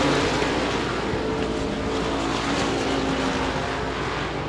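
Modified race cars in a heat race at Devils Bowl Speedway roar continuously in a loud, dense wash of engine noise that stays steady and full throughout.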